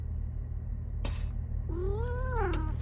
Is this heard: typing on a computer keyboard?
no